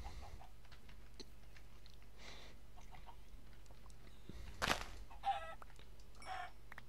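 A chicken in a blocky survival game lets out a single sharp squawk followed by a couple of softer clucks, brief and mid-distance over faint background ambience.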